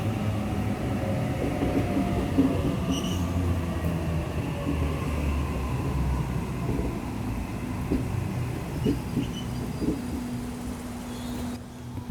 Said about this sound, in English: A52 departing platform 1, central service.